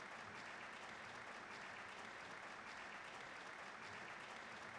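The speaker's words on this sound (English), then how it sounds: "if you're gonna do a clapping effect, probably don't loop it in a half a second" A crowd applause sound effect from the video game Trails of Cold Steel, played after a concert and looped very quickly. It makes a dense, steady wash of clapping with no pauses, heard alone.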